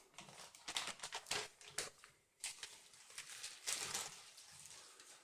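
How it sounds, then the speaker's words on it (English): Protective backing film peeled off model aircraft covering material for a PT-20, a close series of crackly, papery tearing bursts with a short pause in the middle. "grab that protective layer, peel it off"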